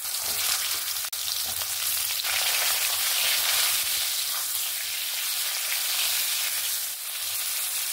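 Pointed gourd (potol) frying in hot oil, a loud, dense, steady sizzle like hissing rain, broken by one faint clink near the start, with no talking.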